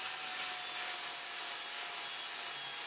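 An angle grinder fitted with an abrasive nylon brush works over rusty tools, giving a steady, continuous high-pitched whine with a bright hissing edge that holds at an even level throughout.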